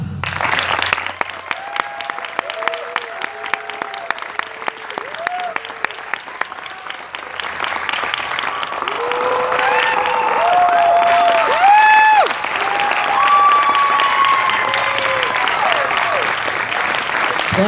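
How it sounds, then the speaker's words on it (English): A crowd at a college signing night for the Placer United graduating class of 2017 claps in one sustained round of applause, dense and loud, swelling midway, with a few whistles and cheers rising above it. "we're going to do a big round of applause"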